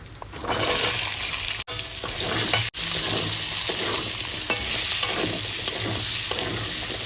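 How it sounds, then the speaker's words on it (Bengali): Cut potatoes drop into hot oil with cumin seeds and bay leaves, frying with a loud continuous sizzle and steady stirring scrapes close up, broken by two brief gaps, no talk. "এবার দিয়ে দেবো কেটে রাখা আলু"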